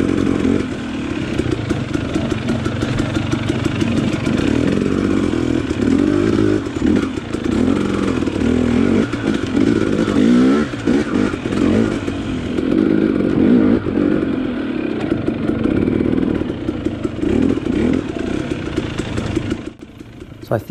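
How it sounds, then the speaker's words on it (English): A KTM XC dirt bike rides a trail in first gear, its engine buzzing loud and close, with a steady, revving, rough drone that holds for about twenty seconds and no talking. "First gear through that same section on the XC feels perfect."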